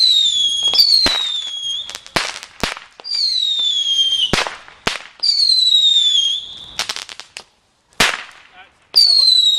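A 144-shot fireworks cake set off on bonfire night, rising whistles and sharp cracks repeating in a steady rhythm, loud and fairly close, with brief gaps between salvos.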